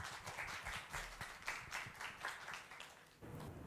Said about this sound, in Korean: 뜨거운 박수와 함께 환영해 주시기 바랍니다